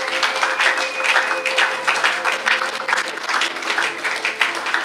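Church congregation applauding during a worship service, steady dense clapping from many hands filling the whole stretch, with a faint sustained tone underneath and no clear speech.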